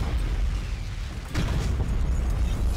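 Torpedo explosions in the space strategy game Battlefleet Gothic Armada 2 rumble as a continuous low booming roar, with a sharper burst near the middle and steady dense rumble throughout, no voices.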